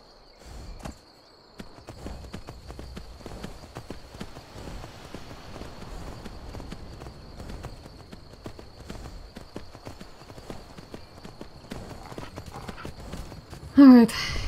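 Horse hooves in a fantasy video game clip-clop in a steady walking rhythm at moderate distance, running through the whole stretch, with a sharper louder burst near the end and some voices around it.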